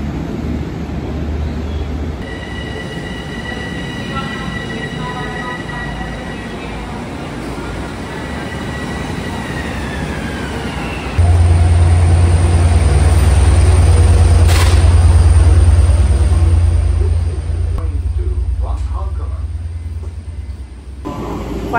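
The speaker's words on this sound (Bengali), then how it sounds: "ট্রেনও এসে গেছে আমার।" A Long Island Rail Road commuter train pulls into a station, its low engine rumble swelling loud and steady midway through, with a brief high brake squeal and fainter tonal whine over ongoing platform noise; no one speaks.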